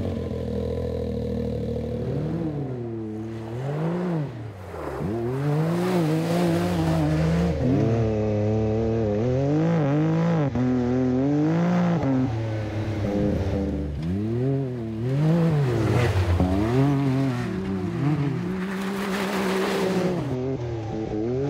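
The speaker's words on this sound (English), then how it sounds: "Well, let's hear how it sounds." A Can-Am Maverick X3 Turbo UTV fitted with an MBRP aftermarket exhaust drives past and around, its engine loud and close with repeated revving and rising and falling pitch through gear changes, plus some clatter, over about twenty seconds.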